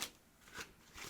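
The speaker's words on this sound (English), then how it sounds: "Let's give it a shuffle." Tarot cards are shuffled softly and close by in a few quick riffling bursts, faint against a quiet room.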